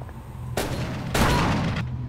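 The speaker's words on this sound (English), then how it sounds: "They're shooting at me." A cultist firing at the player in Call of Cthulhu: two loud, close bursts of gunfire, the second heavier and longer, each stopping abruptly, with quieter background between them.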